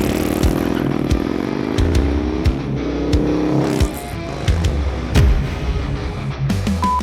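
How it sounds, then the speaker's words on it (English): A Harley-Davidson ST Dominator motorcycle with a 143 cubic inch engine runs close by, a steady loud rumble with uneven revs, rattles and clatter throughout. "This is a 143 cubic inch Dominator."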